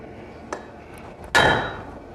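Blacksmith striking hot steel on an anvil at a smithing conference demonstration: one light tap, then a single loud ringing hammer blow that decays slowly, close by.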